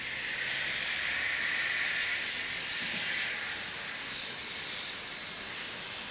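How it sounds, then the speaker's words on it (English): A Southwest Airlines jet, likely a Boeing 737-800, arrives at Dallas Love Field, a broad, steady roar and hiss of the engines from a moderate distance, holding fairly level before easing slightly. "Next arrival from Southwest Airlines, Southwest 1141 from San Antonio to the Big D of Dallas Love Field on an 800."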